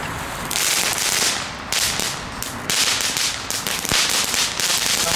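New fireworks from Lidl being set off outdoors, a dense run of sharp crackling pops and hissing bursts coming in rapid waves for several seconds, loud and close.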